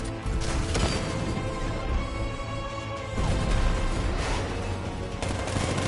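An unmanned tank's 60mm cannon firing in the video game Batman: Arkham Knight, loud rapid bursts of heavy shots and crashing impacts that run almost without a break, with a brief lull midway and no voices.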